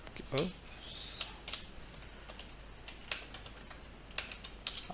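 Soft, rapid keystrokes on a computer keyboard while a Linux command is typed, quiet and close with an irregular clicking rhythm and a brief faint voice near the start.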